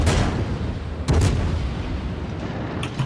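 Ship guns fire in a naval video game, a heavy boom opening the clip and another sharp burst about a second later, over a constant rumbling engine and sea background.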